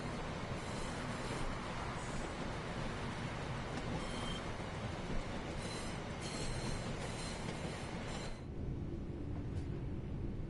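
A Class 47 diesel locomotive runs in Train Sim World 4 with a continuous loud rumble and rail noise that steps down in level near the end.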